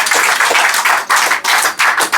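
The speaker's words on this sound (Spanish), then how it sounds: "Dale un aplauso al Señor en esta noche." A church congregation claps loudly and close by, a dense run of applause that comes in uneven bursts with brief dips between them.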